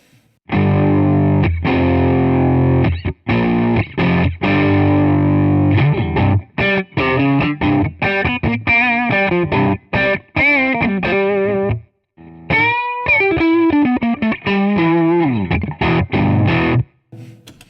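An electric guitar plays a fast riff through an MXR distortion pedal, loud and gritty, with choppy bursts, sustained notes and brief pauses between phrases.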